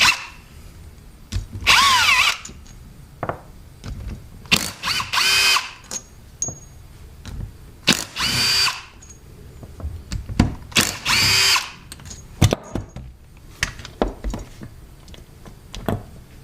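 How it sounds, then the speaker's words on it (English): An impact wrench takes apart a pump from a 2nd Gen Cummins, firing in repeated short, loud rattling bursts separated by pauses and small clanks of parts being handled. "I'm going to probably just use my impact to take this apart"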